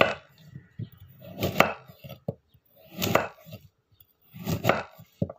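Wangci, a woody Taiwanese vegetable, being chopped with a knife for a home-cooked soup: three clusters of sharp, close knocks on a cutting board, each a quick burst of several strokes, separated by short pauses.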